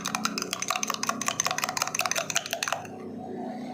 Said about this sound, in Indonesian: kita aduk kacau kayak mengaduk jamu ya